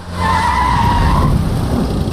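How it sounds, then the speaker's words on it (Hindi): A car brakes hard and its tires skid loudly, a sustained close squeal holding for about a second before fading into road rumble as the vehicle stops. "गाड़ी रोक रहे।"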